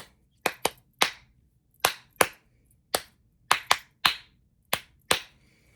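Hand claps tap out a varied rhythm meant for repetition: about a dozen crisp, close claps in short groups and doubles with pauses between, loud and dry over a quiet background, no voices.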